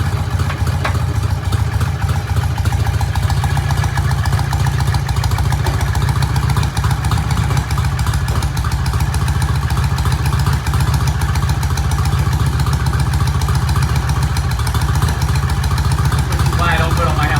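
A BSA motorcycle engine idles steadily, a loud, close, continuous low rumble that holds even throughout, with voices talking faintly over it.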